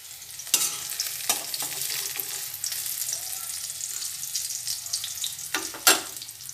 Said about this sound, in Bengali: প্রথমে বড়ি ভেজে নিচ্ছি